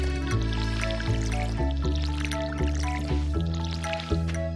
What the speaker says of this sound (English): Time to water all of these.